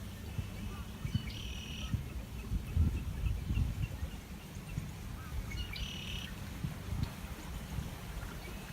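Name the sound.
blackbirds chirping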